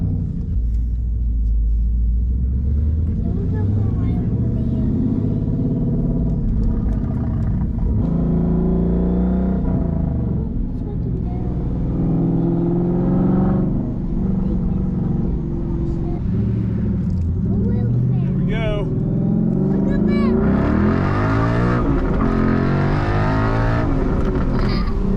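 A Ford Mustang Boss engine rumbles loud and close while driving, with rising and falling revs through repeated acceleration, and people talk over the engine at times.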